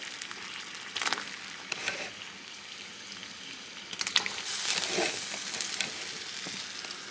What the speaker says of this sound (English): I have all my potatoes in the boiling water